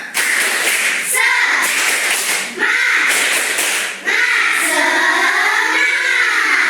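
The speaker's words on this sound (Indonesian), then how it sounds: "Lagi tepuk semangat." Primary school class in Indonesia doing a rhythmic spirit clap together, loud and near, with children's voices chanting and shouting over the claps and brief pauses between bursts.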